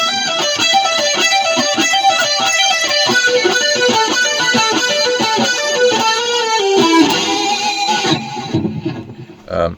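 An 80s-style electric guitar solo lick with a pinch harmonic, played as a busy run of bright distorted notes that climbs, squeals and holds before cutting off, loud and alone.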